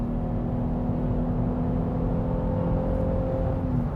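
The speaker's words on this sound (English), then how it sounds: "You hear that V6 roar just a little bit" Inside a moving 2019 Chevrolet Blazer Premier in sport mode, the V6 gives a steady, moderate engine drone under road noise, with a faint sustained rising tone and no speech.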